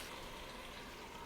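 Frozen, very lean farm-raised ground beef thawing and cooking in a pan for old-fashioned American goulash, giving a steady, soft, low-level sizzle and bubbling hiss that runs unbroken with no voices.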